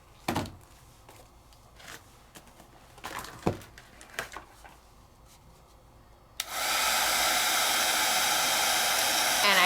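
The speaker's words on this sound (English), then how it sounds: "Then I take my heat tool" A heat tool blows hot air over white glue on double-stick peel-off stickers, kicking in abruptly as a steady, loud broadband whoosh after a few scattered handling knocks and taps.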